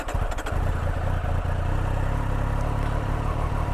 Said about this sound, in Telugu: సో బైక్ అనేది ఆన్ చేద్దాం.